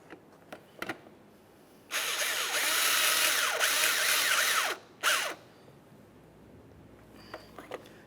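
A power tool snugs up a headlight mounting bolt on a 1994-1997 Honda Accord, whirring loudly and close for about three seconds, then giving one short second burst before quiet returns.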